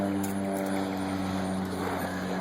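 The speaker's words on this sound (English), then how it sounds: "or hear that plane, but this is the kind of fun we get around town here" A low-flying airplane drones steadily over a town, a continuous propeller hum mixed with nearby road noise from a trike.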